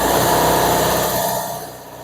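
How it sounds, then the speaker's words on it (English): An air compressor running in a home garage workshop, a loud, close, steady mechanical drone with a pulsing rhythm that eases slightly toward the end, with no talk. "And that's the air compressor."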